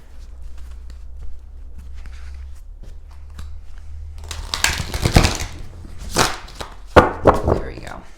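Stiff oracle cards riffle and slap together in a handheld shuffle, a few close bursts of papery flutter and soft taps after a quiet stretch with a low hum.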